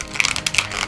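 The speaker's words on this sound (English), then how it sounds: "It's just for making plastic sound like this." A plastic toy gun handled close to the mic makes a brief burst of light, hollow plastic clicks and taps with a quick, uneven rhythm, and no one speaks.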